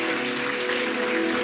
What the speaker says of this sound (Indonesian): Boleh saya minta tepuk tangan yang terbaik bagi Tuhan kita.